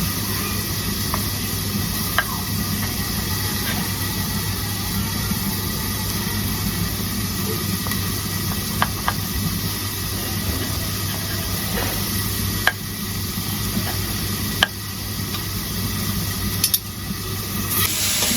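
Vegetables sauté in a pan during cooking, a steady low sizzle with occasional soft clicks and scrapes of stirring, continuous and close, with no talk.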